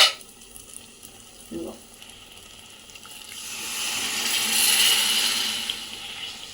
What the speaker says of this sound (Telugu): ఇప్పుడు ఇందులోనే కొంచెం ఎసరు పోసుకోవాలి మనం.